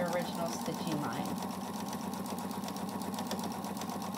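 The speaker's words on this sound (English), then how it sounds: "I'm going to stitch here, 1/4 inch from the original stitching line." A sewing machine runs steadily, stitching a flat felled seam a quarter inch from the original stitching line. Its even mechanical whir continues throughout, with a voice speaking over it at times.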